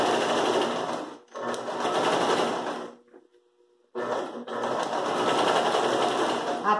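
Sewing machine stitching a denim rug, running loud and close in two long bursts separated by a brief pause.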